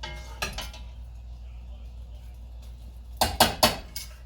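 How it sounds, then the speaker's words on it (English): Pasta coated in gravy is stirred in a pot at home, a couple of short clinking scrapes of a utensil against metal at the start and a louder cluster near the end, quiet in between. "give it a stir"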